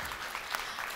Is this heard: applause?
yes